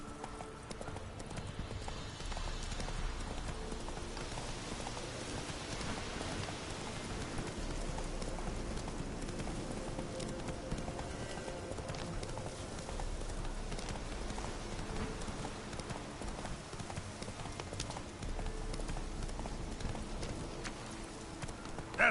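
Hooves of Roach, Geralt's horse in The Witcher 3, trotting in a steady clip-clop rhythm throughout, mixed with a rain-like hiss and low game ambience, with a brief voice and possible snort.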